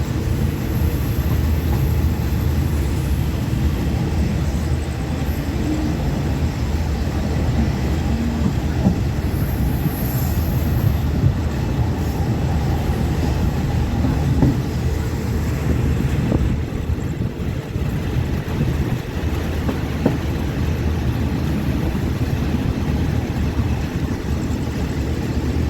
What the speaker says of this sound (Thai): ตอนนี้ก็ถึงสถานีรถไฟบ้านโป่งแล้วเดี๋ยวขบวนรถของเรากำลังเคลื่อนตัวเข้าไปจอดที่ชานชาลา